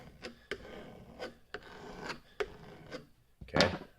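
A screwdriver scrapes over and over across a vinyl-wrapped countertop in a run of about eight rasping strokes. The strokes are close and crisp, and the last one is the loudest.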